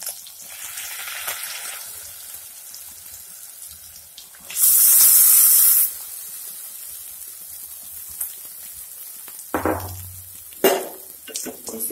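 Sabudana (tapioca pearls) stirred in a pan with cumin and green chillies for sabudana khichdi, giving a soft continuous sizzle with scraping stirs, a louder burst of frying hiss midway, and occasional clinks near the end.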